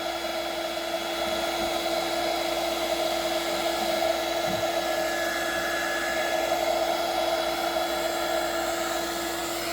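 Heat gun blowing hot air steadily onto a Stihl BR600 backpack blower part to reshape a deformed spot, a continuous close, loud whooshing hum that holds even from start to finish with no talk.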